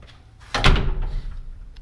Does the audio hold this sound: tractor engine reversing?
no